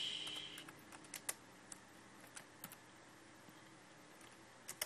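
Keys tapped on a computer keyboard while a device name is entered in home-automation software, a quiet run of irregular clicks at close range with brief pauses between short bursts.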